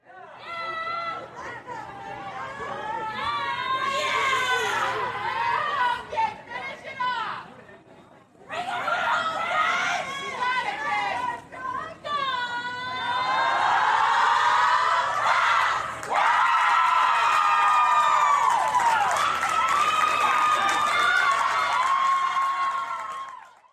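Recorded crowd of equestrian team fans cheering, screaming and chattering loudly after a lost meet, a sustained roar of many voices with brief dips and swells over roughly twenty seconds.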